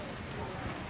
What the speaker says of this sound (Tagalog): manipis lang yung ulap pero kalat ng ulan